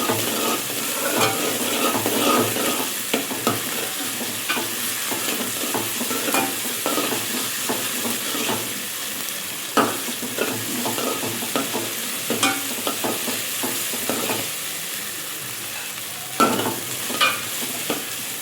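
Ginger paste being fried and stirred in a pan for keema fry, with a steady sizzle and repeated scraping strokes of a spoon throughout, close and moderately loud with no talking.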